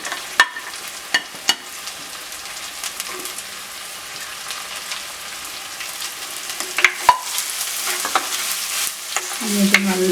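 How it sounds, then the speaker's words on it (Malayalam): Sliced onions fry in a pan while being browned for chicken curry, a soft steady sizzle broken by a few sharp spatula scrapes and clinks, growing busier toward the end, close and unvoiced. "എന്നിട്ട് നല്ലോണം ഒന്നൊരു ബ്രൗൺ കളറാണതൊക്കെ നമുക്ക് വഴറ്റി കൊടുക്കാം"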